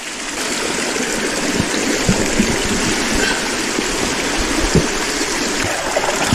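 Hot spring water pours steadily into a freshly dug hole in an Alaskan rainforest, making a continuous close rushing trickle with occasional small splashes.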